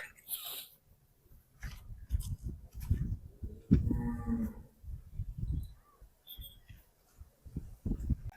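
A Jersey breed dairy cow, reddish-brown and white, moos once at a livestock market, a low drawn-out call in the middle, surrounded by scattered shuffling, breathing and handling noises.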